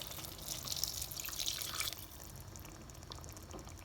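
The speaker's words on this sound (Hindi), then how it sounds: "1 गिलास मैं पानी और डाल रही हूँ इसमें" Water pours from a glass into a simmering lentil ball curry, a faint splashing trickle with scattered drips that settles into quieter bubbling, recorded near in a kitchen with no speech.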